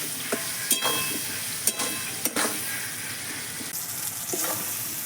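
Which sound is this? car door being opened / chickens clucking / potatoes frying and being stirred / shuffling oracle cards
potatoes frying and being stirred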